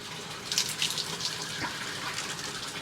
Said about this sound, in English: the water goes into the bucket